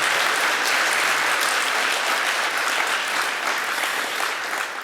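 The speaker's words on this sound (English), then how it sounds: "I think we should applaud Björn for being with us from Sweden." A conference audience breaks into applause for a guest from Sweden, a dense and steady wash of many hands clapping at close range that holds evenly for about five seconds and fades slightly at the end.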